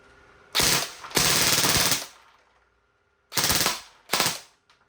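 Two long rapid-fire bursts from an E&C 305 M4 CQB airsoft electric gun on full auto, then two shorter bursts after a pause, sharp and close.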